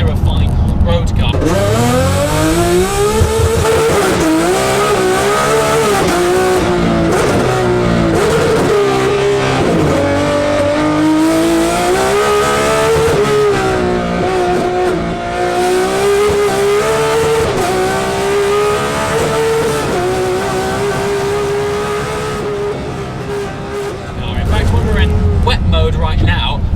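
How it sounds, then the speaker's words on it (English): A Ferrari 599XX racing car climbs a hill course, its engine howling loud and close, pitch rising and falling through gear changes as it accelerates hard, with no speech over the sustained roar. "I shall splice in some footage of going up the hill climb in the 599XX"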